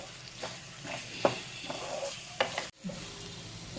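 Onion chutney fries in a pan with a steady soft sizzle, broken by a few scraping stirs and spoon knocks against the pan, close and fairly quiet, no talking.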